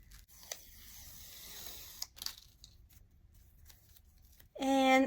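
Scissors snip through strips of fabric for a junk journal spine, a run of quiet, close cuts and rustles with crisp clicks, then a brief louder tonal sound at the end.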